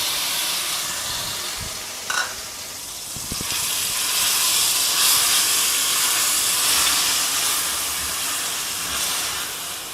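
Grated large onions hitting hot ghee in a pan, a steady broad hiss of sizzling steam that swells after a brief clatter and holds loud and even to the end.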